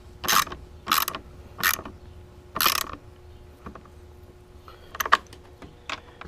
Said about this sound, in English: Get the ratchet on it.